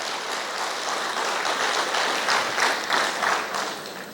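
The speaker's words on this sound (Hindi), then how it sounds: "ताली में कमजोरी मत करिए सर।" Audience applause at a security services session, a dense, loud burst of clapping that swells slightly and carries on for several seconds without any talk.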